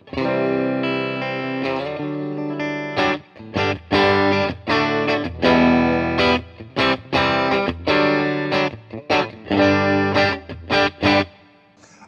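Distorted electric guitar from a budget Glarry Strat-style guitar playing chords and short riffs with a touch of reverb, loud and close, stopping and starting in bursts with no voices.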